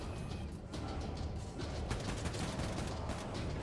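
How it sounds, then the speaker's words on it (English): Dense, continuous automatic gunfire from dual assault rifles in the shooter game Wolfenstein II: The New Colossus, loud and close with crashing impacts, sustained without a break and no talk. "just mow them down with the akimbo assault rifles"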